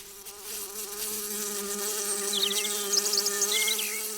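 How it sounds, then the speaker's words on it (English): A bee buzzes steadily and close by around garden flowers, flying from one to another, its hum wavering slightly, with a few faint high chirps in the background. "A bee buzzes around the flowers and flies from one flower to another."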